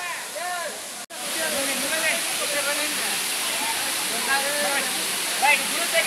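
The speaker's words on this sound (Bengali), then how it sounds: "এই যে ঝর্ণা বা জলপ্রপাত" Suptadhara waterfall in Sitakunda roars in a constant, dense rush of falling water, close and loud, with faint voices audible beneath it.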